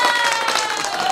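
An applause sound effect, a short burst of crowd clapping and cheering, fairly loud and bright, lasting about a second.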